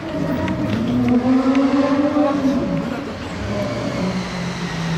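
A Bugatti sports car engine roars and climbs in pitch as it accelerates nearby at a historic Grand Prix event, its rising drone filling the air before easing off.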